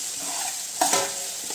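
Gobi manchurian stirred with soy sauce in a hot pan, a soft steady sizzle broken by one sharp scrape-and-hiss burst midway, with no one speaking.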